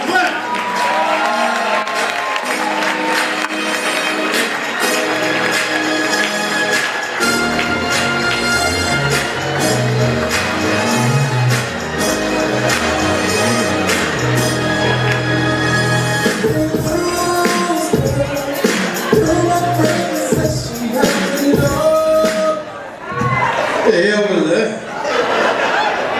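Lively crowd at a live comedy show in Long Beach clapping, cheering and laughing loudly and continuously for comedian Hank Norman, with music and an announcer's voice mixed through the noise.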